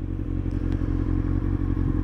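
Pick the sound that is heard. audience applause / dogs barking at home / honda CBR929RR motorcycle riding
honda CBR929RR motorcycle riding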